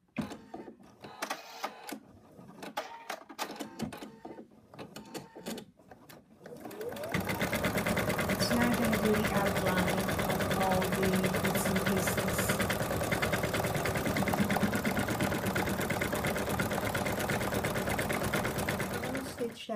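A sewing machine stitches fabric for a stuffed toy, starting with a few short clicks and handling noises before settling into a loud, continuous whirring run up close for the remaining dozen seconds.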